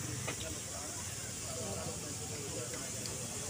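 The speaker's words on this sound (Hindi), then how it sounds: "इनको अच्छी तरीके से भून लेते हैं।" Capsicum and tomato fry for Maggi at a street-side Noida stall, a continuous close hiss of sizzling oil and steam filling the background while a voice talks over it.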